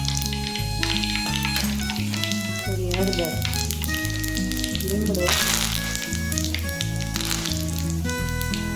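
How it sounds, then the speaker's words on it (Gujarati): Mustard seeds and cumin crackling and sizzling in hot oil, a dense continuous spatter with small pops, with a voice talking over it throughout. "આપણું તેલ સરસ આવી ગયું રાઈ નાખી થોડું જીરું નાખીશું"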